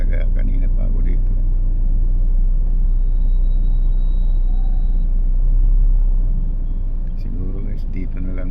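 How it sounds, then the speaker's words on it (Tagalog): Dense road traffic on Aurora Boulevard makes a steady, loud low rumble of idling and creeping vehicles. A faint voice and brief higher sounds emerge near the end. "Okay, so traffic talaga. Kanina pa ako dito."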